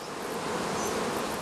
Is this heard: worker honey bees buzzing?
yes